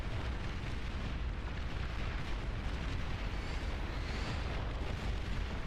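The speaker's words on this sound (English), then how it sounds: "That's a lot of missile fire." Missile fire and explosions strike capital ships in a space battle game, a dense, continuous roar of blasts and rumbling impacts with no pauses, steady and loud throughout.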